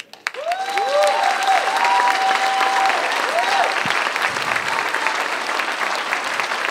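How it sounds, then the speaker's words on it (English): Loud, sustained applause from a large crowd at a middle school awards ceremony, mixed with whoops and cheering that rise over the clapping. "Now I want you to clap for them."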